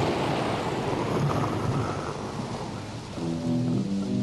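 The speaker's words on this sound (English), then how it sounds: "we got to put in some rain and thunder" Rain and thunder sound effect opening The Doors' studio recording of Riders on the Storm: a steady, loud wash of rainfall with low thunder rumbling through, and a faint tonal hum rising near the end.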